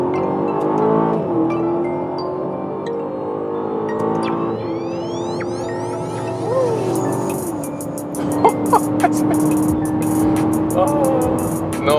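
A powerful SUV engine pulls hard in second gear in Sports Plus mode, its rising whine and roar building up. A gear change comes partway through, then the engine climbs again.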